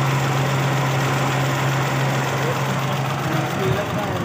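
A 1986 Suzuki FX car engine idles with a steady low hum and an even, continuous drone throughout, loud and close with no clear revving.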